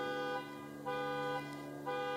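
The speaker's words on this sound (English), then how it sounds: "My neighbor's remote is going off, or car alarm is going off." Car alarm sounding nearby, a loud electronic tone cycling on and off in regular pulses about every half second, with no voices.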